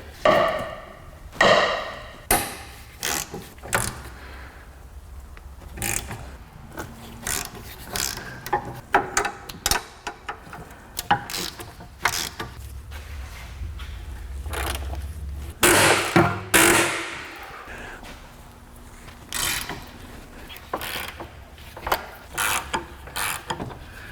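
A ratchet loosening rear suspension bolts on a Honda Pilot: repeated bursts of quick clicking pawl ratcheting, close and fairly loud, separated by pauses, metallic knocks and tool handling, with no talking.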